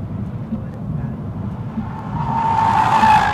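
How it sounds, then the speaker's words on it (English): A 2013 Audi S8 with massive steel vented rotors brakes hard, road rumble building into a rising tire squeal near the end, loud and close. "when you hit them, massive steel vented rotors, and they do slam it to a stop"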